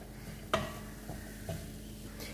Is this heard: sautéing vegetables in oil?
yes